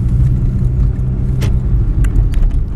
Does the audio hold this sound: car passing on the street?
yes